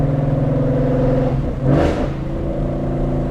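A Ford Mustang GT engine hums steadily, then a short sharp burst like an exhaust pop cuts through before the drone settles again.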